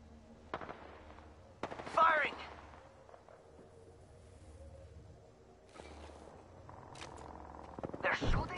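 Gunfire in the video game Apex Legends: sharp bursts of shots come in separate clusters between quieter stretches, with in-game voice lines and a player talking mixed in.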